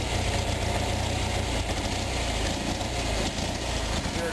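A small Onan engine idles unevenly with a faint rise and fall in its surge, a steady, loud mechanical hum and rattle that stays close and continuous throughout.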